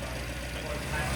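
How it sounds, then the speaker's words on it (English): A rebuilt Mini 850 Mark 1 engine with an HS2 carburettor idles close by, a steady low rumble with an even throb and no break. "Okay, so obviously I've got the engine going."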